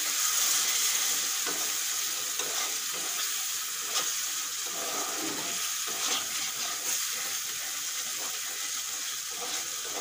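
Spices for sambar sizzle steadily in a pan after tamarind water is poured in, a continuous bright frying hiss with faint scraping stirs throughout.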